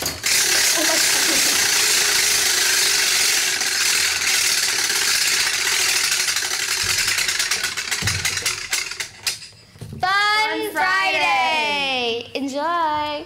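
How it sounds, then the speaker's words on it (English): A prize wheel spun by a group of fifth-grade students clatters with rapid ratcheting clicks that gradually slow and space out, heard over a noisy room, followed by voices talking. "All right, you guys can spin the wheel."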